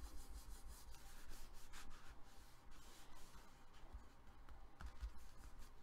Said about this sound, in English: Burnish.